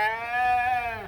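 Ewe lambs in a sheep barn let out one long, loud, sustained bleat lasting about a second, close by, with no other sound around it.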